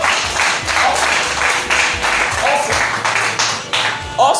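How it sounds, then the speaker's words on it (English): Church congregation applauding during a sermon, a dense, steady wash of clapping filling the whole stretch at close range, with brief voices rising through it. "Clap for Joseph."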